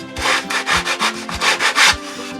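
Small hand saw cutting wood trim for a Christmas gift box, giving quick rhythmic back-and-forth rasping strokes, about eight in a row, close and loud.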